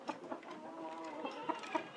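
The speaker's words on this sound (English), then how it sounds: "Excuse me, chickens." Soft, low clucking from a few chickens close by, murmuring continuously with a couple of brief, slightly louder clucks near the end.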